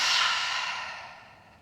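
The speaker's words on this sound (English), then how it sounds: "open the mouth, exhale" A single breathy exhale through an open mouth during a yoga practice, close and clear, fading away over less than two seconds.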